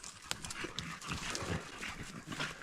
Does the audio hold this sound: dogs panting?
yes